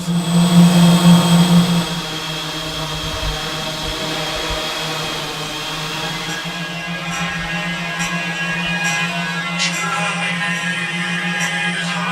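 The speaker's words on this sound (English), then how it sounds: "we've created this wall of sound that's quite guttural, that almost vibrates your body" A loud, steady low buzzing hum of drone instruments played through a PA system fills the space, layered and droning without pause, with higher tones flickering faintly above it.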